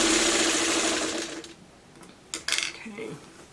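A sewing machine runs steadily as it stitches an hourglass quilt block, loud and close for about a second and a half before stopping, followed by a few short clinks and handling sounds.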